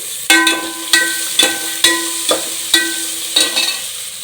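Peas and ginger-garlic paste frying in oil for paneer biryani, about eight sharp ringing clinks of a spoon striking the pan at a steady pace over a faint sizzle, close and clear, no talking.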